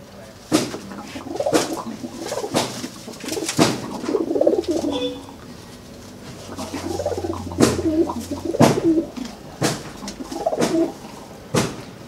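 Losdor racing pigeons coo repeatedly in soft, low rolling calls, with occasional sharp knocks and clatter nearby and some faint murmuring in the background.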